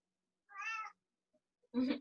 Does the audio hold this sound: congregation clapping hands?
no